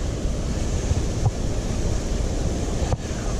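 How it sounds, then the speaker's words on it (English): A raging, swollen urban creek rushes in a steady, loud broadband roar that runs the whole time, with no talking over it. "I should have checked to see if the freaking creek was raging like it is"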